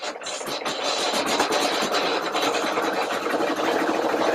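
An embroidery machine stitches pink lettering onto a sleep mask, giving a loud, dense, continuous rapid needle chatter that runs steadily throughout without pauses.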